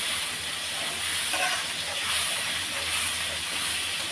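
Fish masala spices frying in hot oil give a steady, broad hiss, like a continuous sizzle, throughout without any talk.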